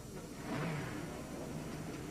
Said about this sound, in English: calls the engines to life at Road America